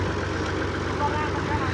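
Tractor engine idling in a farm field, a steady low rumbling drone at close range, continuous and even under a voice talking.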